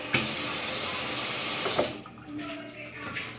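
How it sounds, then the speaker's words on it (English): Tap water runs steadily into a sink for nearly two seconds during handwashing, then stops, leaving quieter kitchen handling noises. "Let me wash my hands really quick."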